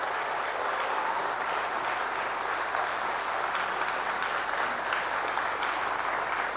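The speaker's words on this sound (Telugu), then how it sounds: "చేస్తా అనుకున్న వాళ్ళందరూ కూడా గట్టిగా చప్పట్లు కొట్టాల్సిందిగా నేను కోరుతున్నా." An audience at an officers' training valedictory ceremony breaks into long, steady applause, a uniform roar of many hands clapping heard at a distance, with no speech over it.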